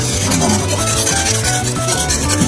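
A utility knife saws back and forth through glued wallpaper. A close, steady rasping rub repeats in quick regular strokes throughout.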